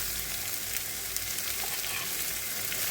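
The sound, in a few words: onion frying in a pan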